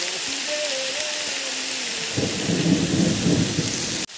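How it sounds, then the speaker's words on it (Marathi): A deep rolling thunderclap rumbles through heavy monsoon rain at a riverside in the Konkan, swelling after a steady downpour hiss and ending in an abrupt cut. "पाऊस बघा म्हटलं किती जोरदार लागतोय आणि विजा पण चमकतायत आणि कडकड कडकड होतोय"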